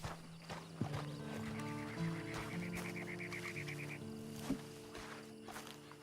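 A horse whinnies in a long, quavering call while hooves clop and shuffle nearby on hard ground.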